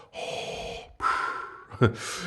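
A human voice imitates Darth Vader's mechanical breathing, two long drawn rasping breaths in and out, close and loud, followed by a short snort-like catch and another breath.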